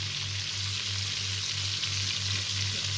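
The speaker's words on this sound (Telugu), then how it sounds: "ఇలాగే అన్నీ తిప్పుకుంటూ ఫ్రై చేసుకోవాలి" Small native bitter gourds frying in a pan with garlic and chili, giving a steady close sizzle with a faint low hum underneath and no talking.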